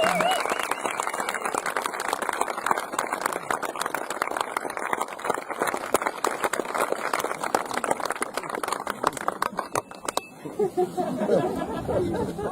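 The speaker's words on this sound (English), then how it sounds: "Please give him a round of applause." Outdoor crowd at a Hen Harrier Day 2016 gathering in the Peak District applauding for Finley Wild, dense sustained clapping for about ten seconds, then fading as a voice starts talking.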